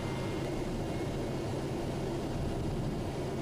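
TBM 850 turboprop airplane accelerating down the runway on takeoff in a left crosswind, a steady, loud broadband engine and propeller roar heard from inside the cabin, with no talk.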